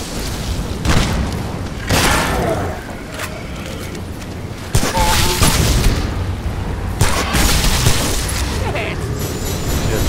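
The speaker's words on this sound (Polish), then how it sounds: "Pieprzone, wybuchające benelingi." Enemies blowing up in the shooter game Shadow Warrior, heard as repeated loud booming blasts and bursts of gunfire over a busy, dense game mix, with speech under the action.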